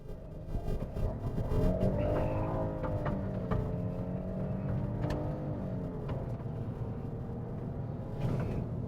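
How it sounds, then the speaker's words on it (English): A 2026 Hyundai Palisade XRT PRO launches from a brake-boosted start with the rear diff locked, its engine note climbing steadily as it accelerates, loud and close for several seconds. "we are going to brake boost it a little bit and go"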